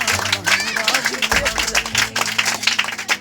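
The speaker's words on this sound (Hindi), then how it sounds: "जोरदार तालियां।" An online class audience gives an enthusiastic round of applause after a student's name and exam score are announced. The fast, dense clapping continues throughout, mixed with lively background voices.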